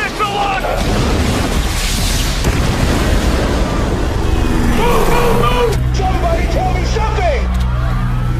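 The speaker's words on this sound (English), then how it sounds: "There has been an explosion." A loud explosion in a comedy movie trailer: dense, broadband rumbling roar that fills the whole clip at high level, with voices mixed in.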